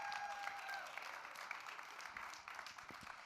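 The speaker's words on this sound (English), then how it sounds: "Round of applause for that." Steady audience applause fills the hall at the Microsoft Excel World Championship finals, a broad even wash of many hands clapping at a moderate distance with no talking over it.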